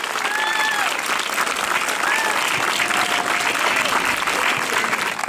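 Steady, sustained applause from an outdoor crowd at the official opening of the Watford bandstand, honouring the Watford Band; dense, continuous clapping fills the whole stretch at even loudness, with faint voices and whistle-like tones above it.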